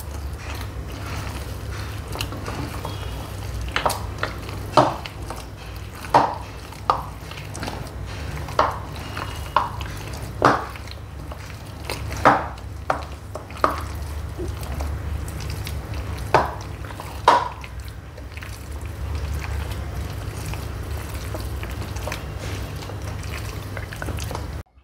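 Chicken reshmi kebab marinade with cream being stirred together in a bowl, soft wet squelches and occasional sharper clicks of the utensil against the bowl, moderately close with a low background hum.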